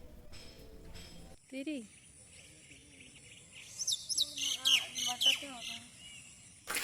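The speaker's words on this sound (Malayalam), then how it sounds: "ഇത് നാച്ചുറൽ കിളിയുടെ ഒരു സൗണ്ടായിരുന്നു" Natural bird calls at Chittumala hilltop temple, with brief chirps early on and a denser burst of high, rapid twittering in the second half, moderately close over a low ambient hum.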